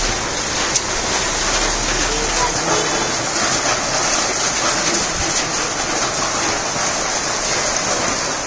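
Heavy rain pours down in a dense, steady hiss with no break, loud and close.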